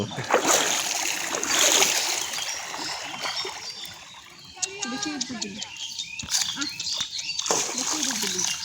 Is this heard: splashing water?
yes